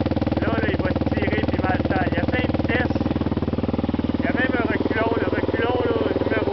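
Yamaha Raptor 700R ATV engine running with a steady, close, throbbing single-cylinder drone that holds constant throughout, while people speak over it.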